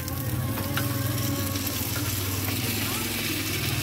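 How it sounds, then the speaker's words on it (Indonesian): School snacks such as milor, egg macaroni and cireng frying in hot oil at a roadside stall give a continuous crackling sizzle, moderately loud and close, while people chat in the background. "Goreng paling ya 2 menit"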